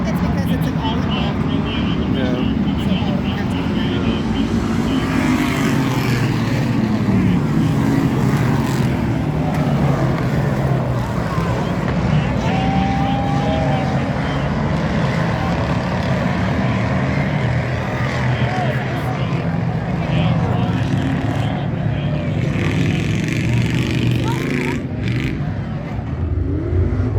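Race cars running laps at a night race at a track, a steady broad engine roar from across the venue with cars passing continuously in the distance, no talk.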